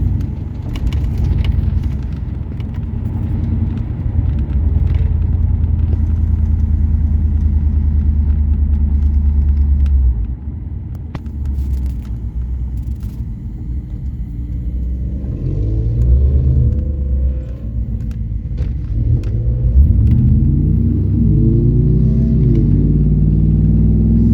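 A 1994 Ford Lightning pickup with a Coyote engine swap rumbles steadily on a test drive, a loud close low drone with shifts in pitch as it accelerates and settles, no talking.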